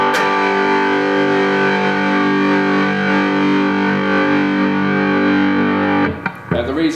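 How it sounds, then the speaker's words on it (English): A distorted electric guitar rings out a sustained power chord with the octave added, loud and thick, holding for several seconds before being cut off with a brief scrape. "when I play power chords, instead of just having the root and the fifth, I also like putting the octave on as well"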